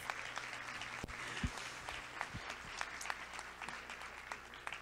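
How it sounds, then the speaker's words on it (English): An audience gives a steady round of applause for a group of teens. The clapping is a continuous, fairly faint wash of many hands at a talk. "So a big round of applause for the teens."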